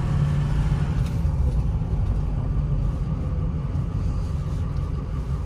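A 2006 Ford F-350 FX4 Lariat 4WD pickup with a 6.0L Powerstroke diesel engine and 137k miles, driving at a steady pace. A continuous deep engine and road rumble runs throughout at an even, moderate level.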